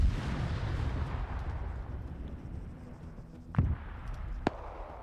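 Video game artillery firing, with rumbling low booms early on and two sharp, distinct blasts later, each standing out over a dull background rumble.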